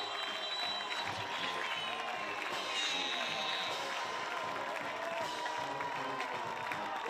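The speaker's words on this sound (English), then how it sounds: "Cheering from the JRS club down the left field line" Crowd cheering and applauding after a home run at a Big Ten college baseball game, a steady roar of clapping and cheers that fills the whole stretch.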